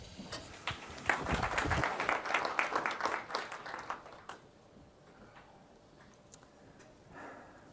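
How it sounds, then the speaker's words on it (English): A conference audience at a security talk applauds a presenter from Qualcomm, a burst of clapping for about four seconds that fades into quiet room noise with a faint voice near the end. "So round of applause."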